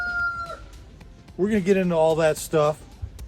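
A rooster crows loudly and clearly, one long call followed by a shorter one, fairly close, with quiet background noise.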